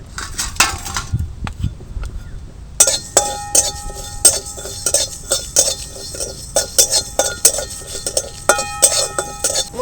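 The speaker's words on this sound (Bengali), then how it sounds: "শুকনো কড়াইতে একটু ভেজে নেব।" Halved dried red chilli with whole cumin and coriander seeds tossed in a dry wok, giving repeated light metallic clinks and scrapes of a spatula against the pan, some isolated, then a steady run of taps.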